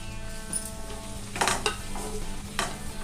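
Small capsicum pieces fry in a pan for a curry, giving a soft steady sizzle with a few close spatula scrapes and light clinks against the pan.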